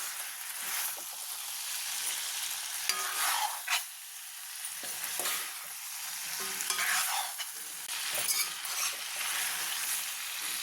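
Garlic chicken sizzles steadily in a hot pan while a utensil stirs and scrapes through it, a continuous close frying hiss with periodic stirring scrapes.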